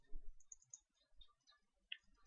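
A computer mouse clicks a few times while selecting files, sparse, sharp, quiet taps with short gaps between them against a near-silent room.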